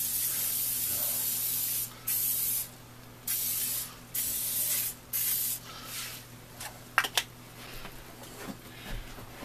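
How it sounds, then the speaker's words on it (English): Canola oil cooking spray misted into an 8x8x2 inch baking pan, several short hissing bursts up close, each a second or so, followed by quieter handling clicks. "I use some canola oil spray."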